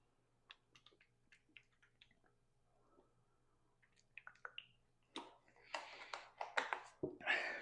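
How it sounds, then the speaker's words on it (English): Someone drinking water, a few faint sips followed by louder gulping and swallowing sounds, close and wet, with no talking. "Drinking water."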